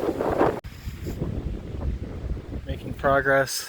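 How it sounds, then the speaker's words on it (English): Strong gusty wind buffets the microphone on a mountain ridge of Guadalupe Peak, a loud, churning low roar that swells and dips, with someone briefly speaking under it near the end. "the wind is certainly very strong. Almost blew me over back there."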